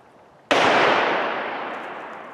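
A single sharp, loud gunshot from a Smith & Wesson M&P9 pistol on a shooting range, with a sudden crack that rings out and decays slowly, alone with no talk.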